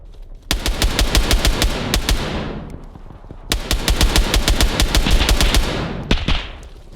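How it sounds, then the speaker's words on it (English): Video game gunfire echoes through apartment blocks in ARMA Reforger: two long bursts of rapid automatic shots, each ringing out with a decaying tail, loud and fairly close, with no voices. "Hearing lots of shots in these apartment blocks though"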